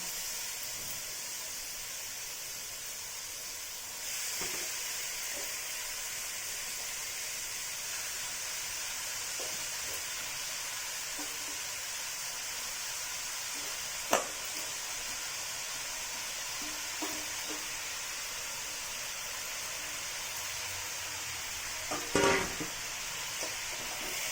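Boiled bottle gourd goes into a hot pan and sizzles in a steady, bright hiss throughout, broken by occasional clinks and scrapes of a utensil stirring.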